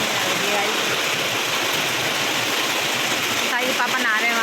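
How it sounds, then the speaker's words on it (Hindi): Steady, dense rain roar fills the scene, a continuous heavy downpour with a faint voice briefly surfacing near the end. "देखो गाइस कितनी तेज़ बारिश हो रही है"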